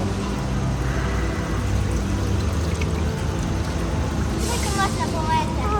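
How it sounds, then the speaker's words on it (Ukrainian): Clean water pours like a small waterfall in a water-purification exhibit at a science museum in Lviv, making a loud, steady rushing splash throughout, with a faint voice briefly audible near the end. "О, тут створи водоспад з чистої води."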